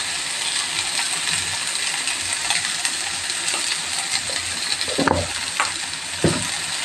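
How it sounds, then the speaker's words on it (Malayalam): A spice mixture fries in hot oil with a continuous crackling sizzle. Occasional metallic scrapes and clinks of stirring come in near the end, close and alone without speech. "ഇത് നമുക്ക് ചൂടായ എണ്ണയിലേക്ക് നമ്മുടെ ഈ കൂട്ടെല്ലാം ഇട്ട് കൊടുക്കാം"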